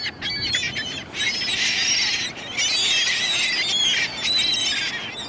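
A flock of gulls squawks loudly in repeated overlapping bursts at Stanley Park, shrill calls rising and falling with short lulls between them.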